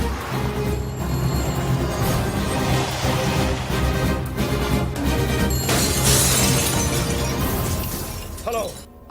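Glass shatters in a crash within an action scene from a Telugu film, a loud burst layered over a dense, continuous score and effects that fill the whole stretch.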